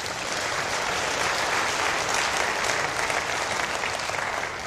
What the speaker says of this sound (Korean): 우리 서울시를 위해서 여러분 박수 한번 쳐주세요.